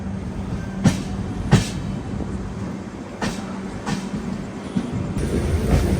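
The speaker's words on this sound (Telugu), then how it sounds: "కొప్పల్ వచ్చింది, బయలుదేరిపోతుంది కూడా మన ట్రైన్." An express train from Secunderabad to Vasco da Gama pulls out of Koppal station, a steady rolling rumble with a few sharp clanks spaced through it, close and continuous with no talk.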